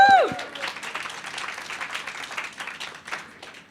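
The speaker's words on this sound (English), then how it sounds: "Big round of applause for Mel." An audience at a social media keynote event breaks into a loud whoop and round of applause that is strongest at first, then gradually fades.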